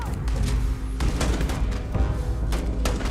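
Gunfire from a zero-G gunfight in a video game comes in heavy bursts of booming shots and thuds, with several sharp blasts in quick succession over a dense background.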